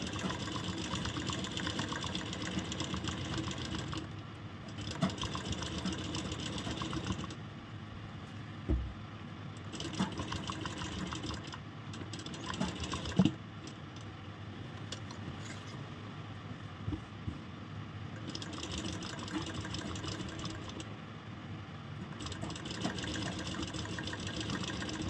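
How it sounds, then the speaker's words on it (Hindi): An electric sewing machine stitches piping onto a kurti, its fast steady whirring hum running in long bursts with short pauses between seams, close and faint. "एक बराबर रखने के बाद अभी यहाँ से हम सिलाई लगाएंगे।"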